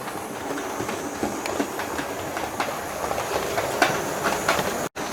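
A Hornby 28XX model steam locomotive running along a straight at the back of a model railway layout, with a steady rolling rumble and light rhythmic wheel clicks, close and continuous, with a brief dropout near the end.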